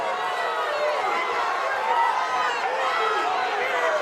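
A home crowd at a girls' regional championship basketball game, Broken Bow Lady Savages against Ft. Gibson, reacts to a foul call with a sustained murmur of many voices that is loud and fairly close.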